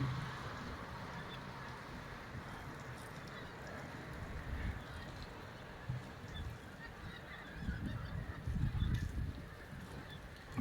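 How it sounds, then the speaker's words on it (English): Many geese honking far off in December in England, a faint, continuous chorus of overlapping calls from hundreds of birds, rising briefly louder near the end. "I can hear so many geese."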